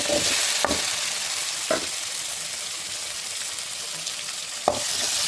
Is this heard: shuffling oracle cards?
no